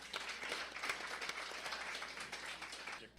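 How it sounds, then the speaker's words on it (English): Audience applause at a talk event welcoming a historian, a steady dense wash of clapping from a moderately distant crowd that holds evenly for about three seconds without voices. "Let's give Greg a round of applause."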